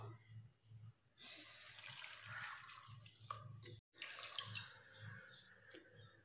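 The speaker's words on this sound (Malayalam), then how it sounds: "ആവശ്യത്തിന് വേണ്ട വെള്ളം ഒഴിച്ചു കൊടുക്കാം." Water pouring into a pot of mixed beef for cooking, a splashing rush that swells for a couple of seconds, stops briefly, then resumes and tapers off, with a low steady hum underneath.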